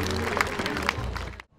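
Audience applause at a fashion show, steady dense clapping from a crowd in a hall that fades out abruptly near the end.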